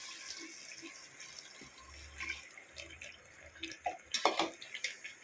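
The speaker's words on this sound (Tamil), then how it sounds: "இப்போ நம்ம சிக்கன் வேகிறதுக்காக ஒரு டம்ளர் அந்த வடித்த தண்ணியவே நம்ம சேர்த்துக்கலாம்." Drained rice water splashes from a tumbler into a pot of chicken for dum biryani, a short liquid pour with faint clinks rising toward the end, close and fairly quiet.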